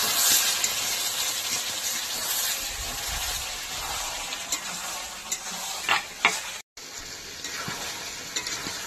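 Tough desi chicken sautéing in a covered pan: a steady sizzle and hiss fills the clip, broken by a few utensil scrapes and clinks and a momentary dropout, close up with no speech.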